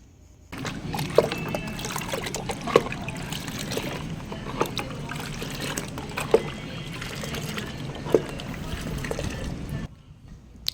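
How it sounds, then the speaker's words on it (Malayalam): Steady sloshing and swishing of orchid fertilizer being stirred into a liter of water in a container, with a few sharp clinks at regular intervals, continuing for about nine seconds. "ഇതിപ്പോൾ ഞാൻ ഒരു ലിറ്റർ വെള്ളത്തിലേക്ക് നന്നായിട്ടൊന്ന് മിക്സ് ചെയ്ത് കൊടുക്കുവാണ്"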